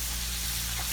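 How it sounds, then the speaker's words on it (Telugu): Chicken pieces frying in hot oil give a steady, close, continuous hiss and sizzle for under a second, with no voices. "తర్వాత ఇవైతే ఫ్రై అయిపోతూ ఉన్నాయి"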